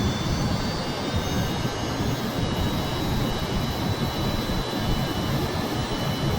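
A Kerbal Space Program aircraft throttling up past 2,500 meters, a loud continuous jet engine roar with a steady high whine, unbroken and close.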